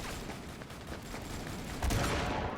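Gunfire in the video game Avatar Star, a dense, continuous burst of shots layered into a busy battle mix, growing louder and heavier near the end.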